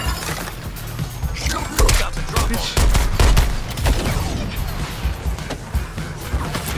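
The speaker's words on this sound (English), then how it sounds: "I saw like rockets coming at me." Rockets and gunfire come in during a Suicide Squad Kill the Justice League combat scene, with dense bursts of blasts and mechanical clatter. Impacts and explosions pile up loudly over several seconds.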